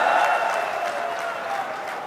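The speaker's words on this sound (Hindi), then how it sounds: "जोर से ताली बजाइए" Crowd applause at a political rally in Rajasthan, a steady wash of many hands clapping at a distance, sustained without pause.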